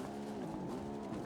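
In BeamNG.drive, a car tail-whips and skids into a sand pit, its engine droning with a faint scraping slide across the short stretch.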